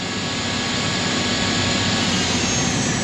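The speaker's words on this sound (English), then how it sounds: "So that's the both turrets moving, Okay. both live toolings moving, and both spindles moving." A used Mori Seiki ZT 1000Y multi-axis lathe runs with both turrets, live tooling and spindles moving, making a loud, steady, broadband roar and whine that holds unchanged throughout with no voices.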